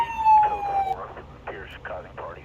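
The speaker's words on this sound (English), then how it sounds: "lights are all working, sirens working" A police car siren in the video game Police Simulator: Patrol Officer gives a short electronic wail that cuts off after about a second, followed by a voice talking.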